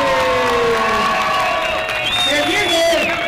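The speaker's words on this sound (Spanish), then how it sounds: "Con ese fuerte aplauso para Stephanie, la niña de oro" Crowd cheering and whooping at an amateur women's boxing card for Día de Reyes as a fighter is introduced, loud and continuous with overlapping shouts and voices.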